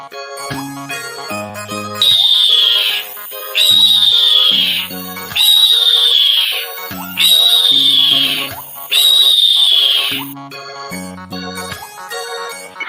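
A magpie's call repeats five times, each a clear, high, falling whistled phrase about a second long at an even pace, with jingly tuneful music before and after the calls.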